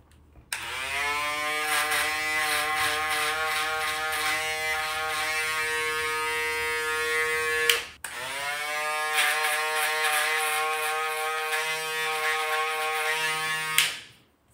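Electric shaver buzzing steadily during a haircut fade, a loud close drone that runs for several seconds, cuts briefly, then starts again before switching off.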